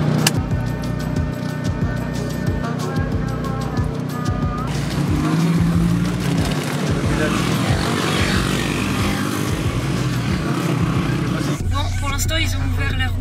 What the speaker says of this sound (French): il y a plein de voitures qui passent